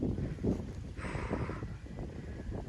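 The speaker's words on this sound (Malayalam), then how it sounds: "നല്ല കാറ്റും ഉണ്ട് കേട്ടോ അവിടെ" Steady wind at a scenic viewpoint buffets the microphone with low rumbling gusts, and a faint hiss swells briefly in the middle.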